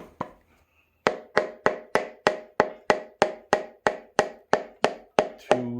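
A piston is tapped down into the bore of a budget 383 stroker engine with about sixteen evenly spaced sharp knocks in a steady rhythm, close and clear with no talk.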